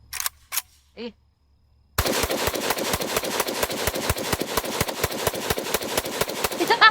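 Rapid, evenly spaced gunshots from an AK rifle firing 7.62x39 full metal jacket rounds loaded with smokeless powder, a loud steady string of about two dozen sharp cracks after a couple of brief noises and a short quiet gap.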